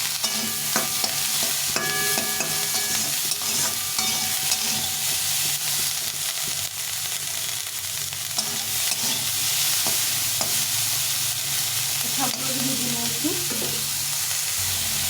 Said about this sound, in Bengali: একদম সব সবজিগুলো সুন্দরভাবে ভাজা হয়ে যাচ্ছে দেখো